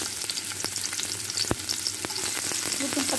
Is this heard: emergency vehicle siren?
no